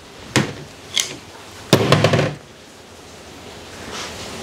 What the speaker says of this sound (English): you just use a hammer and away it comes out.